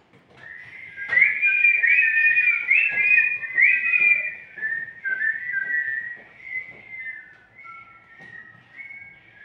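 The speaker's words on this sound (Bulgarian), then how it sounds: "като весело си подсвиркваше" A lively tune whistled alone, bright and clear, with short bouncing notes and little runs that fade softer toward the end.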